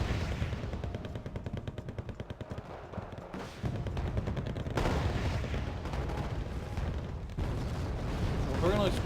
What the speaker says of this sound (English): It's taking mortar fire.